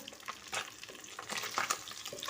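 Pabda fish frying in a pan in hot oil, a close, moderately loud crackling sizzle with small spits and pops that continues without interruption.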